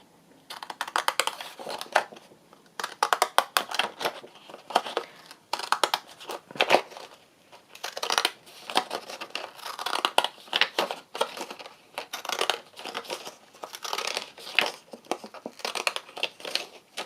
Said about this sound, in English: get my crinkle scissors out